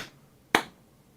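A single sharp hand clap to sync picture and sound, loud and close, standing alone against a quiet room with a short ringing decay.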